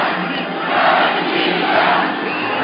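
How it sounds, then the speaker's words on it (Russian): A large crowd at a Victory Day march in Odesa shouts in unison, a loud, massed roar that swells and holds for a couple of seconds. "Уже кричат «Россия» громко"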